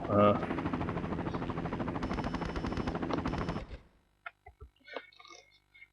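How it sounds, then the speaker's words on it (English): A hovering helicopter in the Tomb Raider Chronicles video game gives a steady, dense rotor drone for several seconds, then stops abruptly, leaving a few sparse clicks and faint game sounds. "that helicopter is still waiting up there"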